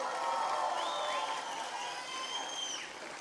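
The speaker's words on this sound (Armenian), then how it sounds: "եկեք Գեղարքունիքի մարզին բարձր ծափեր" A festival crowd applauds and cheers for Armenia's Gegharkunik region, a steady wash of clapping with a few high whistles rising over it, moderately loud and continuous throughout.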